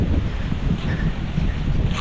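Strong wind buffets the microphone in a constant, rough roar with gusty surges, loud and close, with no talking.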